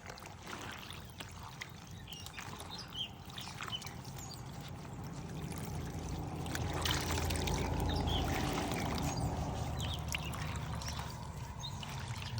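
Eco-printed fabric, dyed with tea and coffee, being rinsed in water: steady sloshing, trickling and pouring, close and moderately loud, swelling slightly midway, with no talking.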